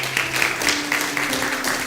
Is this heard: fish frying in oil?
no